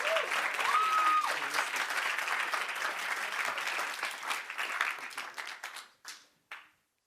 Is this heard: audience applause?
yes